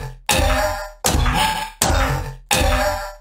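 Four punchy impact sound effects for a video game boss gunner taking damage fire in sequence, each a loud metallic thwack with a short decaying ring, evenly spaced with brief silences between.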